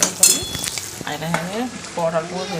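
Potato curry cooks in a pan with a close, steady sizzle and bursts of stirring. A few clatters come early on, and a faint voice is heard briefly.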